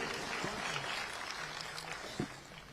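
A crowd claps together at a Hindi poetry recital held in memory of a political leader, steady applause at moderate loudness, with a faint voice underneath.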